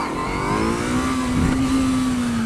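A motorcycle engine held at half throttle for a wheelie, heard as a loud, close, steady drone with a slowly rising pitch, with no one speaking.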